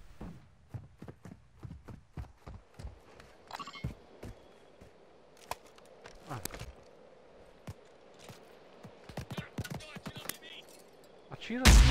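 Scattered gunshots in the video game Warzone 2.0 DMZ crack in irregular bursts, some close and sharp, others distant, with faint voices and a loud thump at the end.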